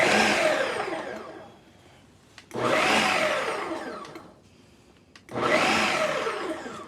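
A blender whizzes homemade mayonnaise ranch dressing with buttermilk powder in three loud, steady bursts, each a couple of seconds long, separated by short pauses.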